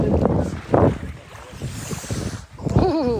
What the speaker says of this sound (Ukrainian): Який вітер, так?